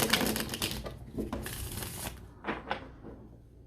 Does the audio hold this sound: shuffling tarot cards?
yes